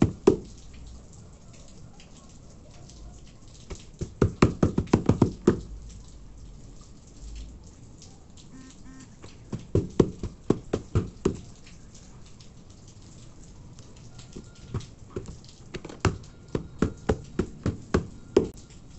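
Crumpled aluminium foil boat pressed flat with a heavy object, giving clusters of sharp crinkling, knocking thuds in several bursts, close up and fairly quiet, with no talking.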